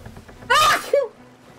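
A single sharp sneeze bursts out close to the mic, followed by a brief voiced tail, against a quiet background.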